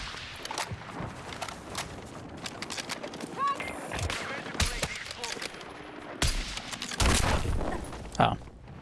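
Gunfire in an online shooter video game, with sharp shots and bursts scattered across the stretch and louder volleys near the end, mixed with game ambience and brief voice sounds.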